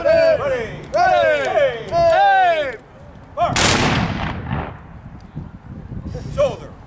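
At a military history reenactment, a company shouts loud drawn-out commands, then fires a single thunderous musket volley that booms and rolls away into a fading echo.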